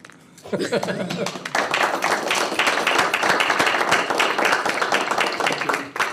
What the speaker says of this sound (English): All in favor, please clap.